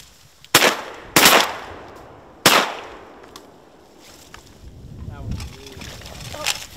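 Three loud shotgun blasts ring out close by during a duck hunt on North Dakota water, the first two in quick succession and the third a moment later, followed by sloshing water and faint voices.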